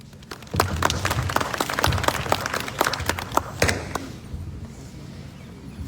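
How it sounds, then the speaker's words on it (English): Applause follows a speech at a school Republic Day celebration: many hands clapping at a brisk, uneven pace, moderately loud, then dying away into quiet near the end. "applause in the air"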